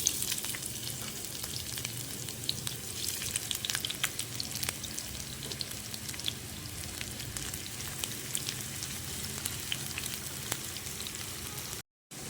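Steady, close sizzling and crackling of onions frying in hot oil in a pan, continuous throughout with small pops, cutting out briefly near the end.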